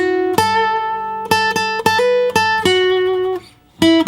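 A slow acoustic guitar solo phrase from a song: spaced single notes picked one at a time and left ringing, near and clear, with a short gap before a final note.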